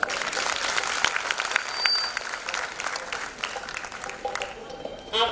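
Audience applause at a live stage show put on by an entertainment troupe, a steady dense clapping that fills the whole stretch, swelling briefly near the start and again at the very end.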